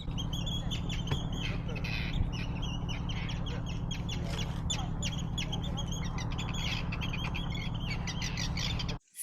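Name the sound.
two birds fighting and squawking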